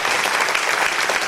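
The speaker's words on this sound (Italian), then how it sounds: "vi chiedo un bel applauso veramente, veramente sonoro per chi ha lavorato qui a questo film" Audience applause fills a cinema hall at the official premiere of the film "Musica Nascosta", a dense, steady wash of many clapping hands, loud and close throughout the short stretch.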